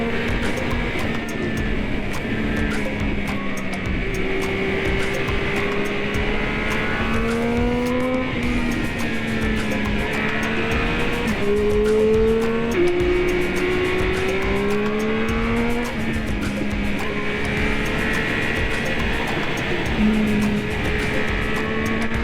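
Steady loud engine drone from a sport motorcycle being ridden, with rising and falling revs as it shifts through gears, heard continuously up close without talk.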